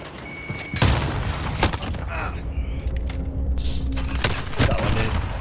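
A grenade explosion in Call of Duty Modern Warfare multiplayer, a heavy boom landing amid scattered gunfire and mechanical clatter, with a player's voice talking over the fight.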